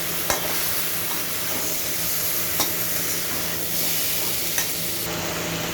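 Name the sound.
stirring tomatoes into frying chicken curry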